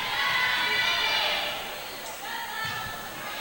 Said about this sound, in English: Liberty crowd going wild on that call